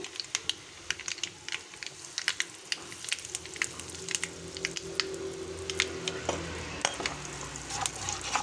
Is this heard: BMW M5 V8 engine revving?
no